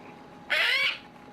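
A young greenwing macaw chick, freshly ringed and hand-fed, gives a single loud, harsh call lasting about half a second, close by, then falls quiet.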